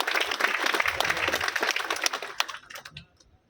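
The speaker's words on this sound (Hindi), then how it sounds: "एक बार उन सब के सम्मान में आप लोग तालियां बजाएं।" Audience applause at a Hindi poetry gathering, brisk dense clapping that thins and dies away after about three seconds.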